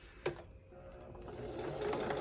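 A sewing machine runs steadily while stitching quilt squares right sides together along a quarter-inch seam, a continuous close whir that builds slightly in level after a brief knock near the start.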